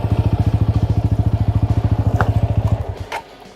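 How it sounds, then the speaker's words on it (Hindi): A TVS Apache RTR 200 4V motorcycle pulls away in first gear with the clutch eased out and no throttle. A close, steady low engine thump chugs rhythmically and then fades, followed by a couple of faint clicks. "फर्स्ट में डाला और क्लच धीरे धीरे छोड़ रहा हूँ।"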